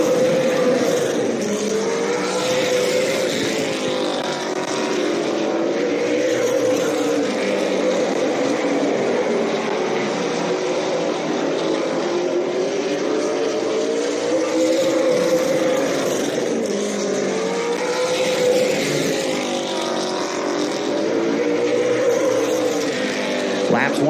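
Race cars run laps in a 20-lap consolation race on a dirt track, their engines roaring loudly and continuously with rising and falling pitch as they pass, and a commentator talks over the noise.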